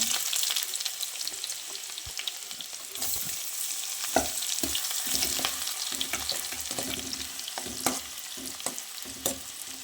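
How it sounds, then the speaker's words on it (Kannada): Onions frying in a couple of spoons of ghee for paneer fried rice, a steady hiss of sizzling with scattered spatula scrapes and clicks throughout, close and fairly loud, no talking. "ಈರುಳ್ಳಿ ಫ್ರೈ ಆಗಬೇಕು"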